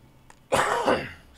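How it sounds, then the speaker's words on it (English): A person gives one short, sharp cough with a rough follow-through, close and alone over faint background. "I keep coughing."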